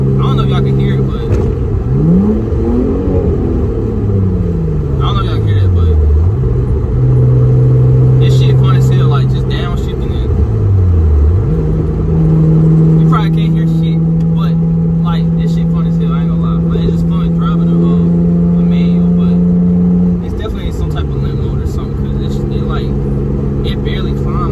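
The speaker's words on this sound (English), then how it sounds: "The exhaust ain't that annoying to me." An Infiniti G35 car's VQ V6 engine revs up and down in smooth sweeps, then holds steady tones, with a deep exhaust note throughout and occasional talking over it.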